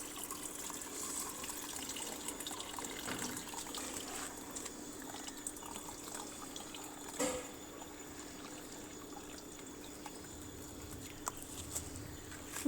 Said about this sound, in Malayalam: നമുക്ക് ഒരു തോർത്ത് വെച്ച് അരിച്ചു കൊടുക്കാം